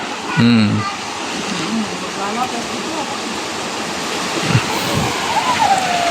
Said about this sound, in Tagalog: Nasa tabing ilog at ang lakas ng anod.